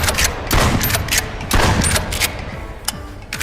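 Pump shotgun firing in the VR game Bonelab: a rapid series of loud, sharp blasts, about six shots in quick succession with racking clatter between them, close and punchy.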